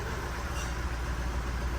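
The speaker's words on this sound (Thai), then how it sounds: "คันนี้เครื่องยนต์เดินไม่นิ่งนะรอบรอบข้างบนหน้าปัด" A car engine with a rough, unsteady idle gives a low, continuous rumble with a faint pulsing throb, heard close and alone.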